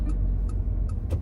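A car's left turn signal ticks in a steady, even rhythm at close range inside the cabin, four clicks over a low engine hum during a driving road test, with no talking.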